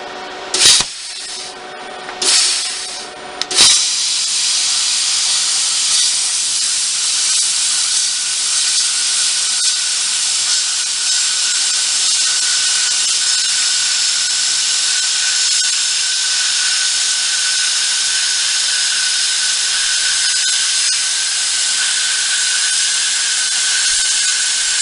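A plasma cutter set to 25 amps slices through quarter-inch steel plate: a few sputtering starts and pops, then a steady, loud, harsh hiss held continuously for about twenty seconds.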